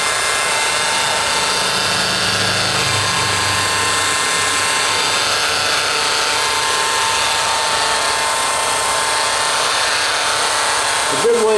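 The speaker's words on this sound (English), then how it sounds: "Now I bring this speed up on the Makita a little bit as I go up each honing pass." Makita polisher with diamond pads honing wet marble, a steady high-pitched whine that holds constant throughout, loud and close, ending with a brief clunk.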